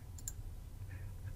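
A computer mouse clicks a few times, short faint ticks over a steady low hum while someone works in a SharePoint flow.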